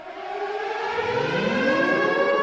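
Civil defense emergency siren winding up from silence into a loud, rising wail with strong harmonic tones, held steady and alone.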